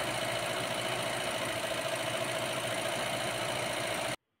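Volvo 140 engine idling steadily while ignition timing is set, a constant close mechanical hum and clatter that runs unbroken for about four seconds before cutting off abruptly.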